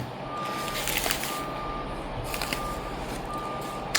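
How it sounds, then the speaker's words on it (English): A large construction truck's reversing alarm beeps steadily in the distance, a thin repeated tone over a low rumble of engine and outdoor noise. "We've got beeping in the background."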